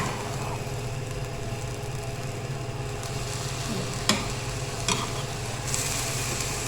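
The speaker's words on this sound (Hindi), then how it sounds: "बस हमने हल्के हाथ से इसको मिक्स कर देना ताकि गुड़ जो है वो सारे चावलों को लग जाए।" Rice being gently stirred with melted jaggery in a cooking pot, a steady soft scraping and faint sizzle running throughout, with a couple of sharper utensil knocks against the pot near the end.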